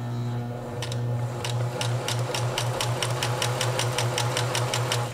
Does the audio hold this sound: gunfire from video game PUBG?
no